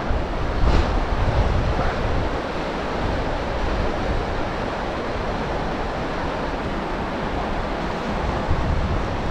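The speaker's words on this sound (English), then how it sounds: "That wind is cutting through this little canyon right here." Strong wind gusts through a small canyon during a Colorado fly fishing outing, a loud, unbroken roar that buffets the microphone for the whole stretch, with no talking.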